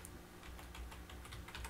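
Fast typing on a computer keyboard while entering commands in a Windows command prompt, a steady run of close, crisp key clicks with no speech.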